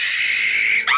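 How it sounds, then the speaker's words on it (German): A woman screams in a sustained, loud, high shriek lasting about a second, with a short break and a sharp renewed cry at the end, in a German audiobook. "Als ich den Schrei meiner Schwester hörte"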